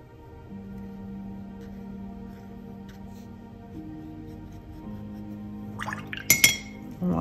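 A watercolor paintbrush rinsed in a glass of water, quiet at first over a low hum, then a brief cluster of light clinks and swishes as the brush taps against the glass.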